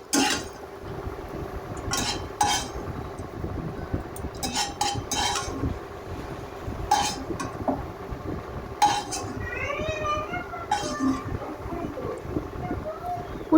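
Fried bitter gourd scraped from a pan into a bowl, with repeated clinks and scrapes of utensil on metal cookware at close range, spaced irregularly over a low background hum.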